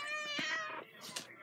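An indoor house cat gives a drawn-out, rising and falling meow near the microphone, followed by a shorter second cry, with a person speaking softly around it.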